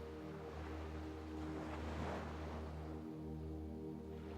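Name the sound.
ocean waves on a beach, Gili Islands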